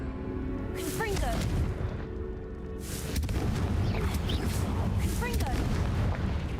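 Repeated Confringo fire-blast spells in Hogwarts Legacy: several heavy, booming explosions over a constant rumbling din, with short voiced shouts between the blasts.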